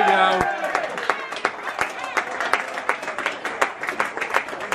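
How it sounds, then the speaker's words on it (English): Football crowd at a cup match between Gainsborough Trinity and Stamford AFC cheering and applauding after a penalty in a shootout: dense, steady clapping and crowd noise with scattered sharp claps, loud and close. "You're right, the crowd does go wild"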